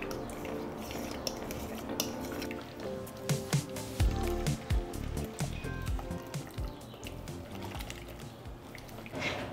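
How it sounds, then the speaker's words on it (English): Vanilla extract and vegan buttermilk being stirred into a sweet potato scone mix: quiet, close squishing and wet mixing with a few clinks of a utensil against the bowl, and no voices. "Give that a good stir."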